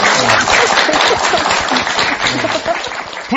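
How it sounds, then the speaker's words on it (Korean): Studio audience applause on a Buddhist broadcast talk show, a dense, steady wash of clapping with voices mixed in underneath throughout. "박수 한번 드리세요."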